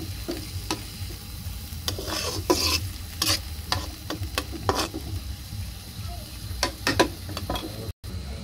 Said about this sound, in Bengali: এখন এটাকে ভালোভাবে নাড়াচাড়া করে দেব